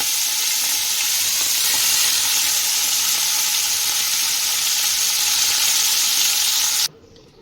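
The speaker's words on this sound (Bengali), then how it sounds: "এবার আমি তেলের মধ্যে নুন হলুদ মাখিয়ে রাখা চিংড়ি মাছগুলো দিয়ে দেবো" Prawns coated in salt and turmeric fry in hot white oil, giving a loud, steady, close sizzle that runs continuously and then cuts off abruptly near the end.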